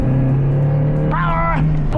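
Mazda MX-5 Miata engine holding a steady low drone, with a brief rising harmonic swell partway through as the car is driven and shifted down toward second gear, sounding close and continuous.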